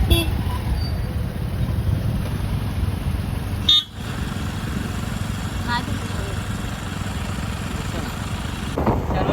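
Road traffic near Karjat, a steady low rumble of car and motorcycle engines with short horn toots now and then, while people talk nearby.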